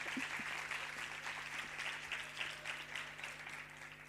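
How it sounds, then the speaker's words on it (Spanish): A lecture audience applauds a speaker, a dense, even patter of many hands clapping throughout, moderately distant, over a faint steady hum. "Un aplauso."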